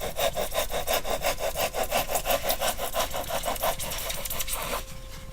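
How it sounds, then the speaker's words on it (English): A hacksaw blade cuts through wood in steady back-and-forth strokes, about three per second, close and loud, with a quieter scraping tail at the end. "Doing this as a demonstration that you know, hacksaw blade works quite well."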